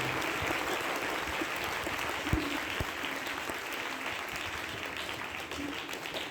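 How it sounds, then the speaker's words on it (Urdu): A church congregation at a feast celebration for St. Anthony of Padua bursts into sustained applause, a dense, even clatter of many hands that carries on steadily, with no talk over it. "سب تالیاں بجا کر مقدس اینٹنی کا شکریہ کریں گے۔"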